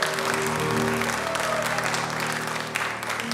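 A Unitarian church congregation at a Sunday Passover service breaks into applause, dense sustained clapping from a roomful of people over a faint tonal hum, tapering slightly toward the end.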